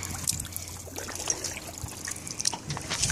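Water trickles over rocks in a steady, close babble with faint splashy flickers, no voices over it.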